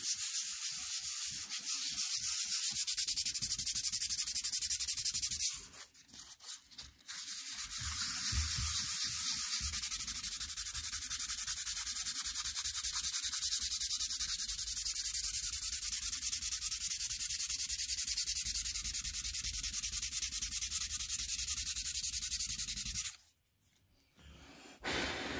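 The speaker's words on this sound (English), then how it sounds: "And I can also sand it down lightly." Light hand sanding on a wooden cribbage board: a continuous, close, gritty rubbing that runs steadily with two brief pauses, and no voices.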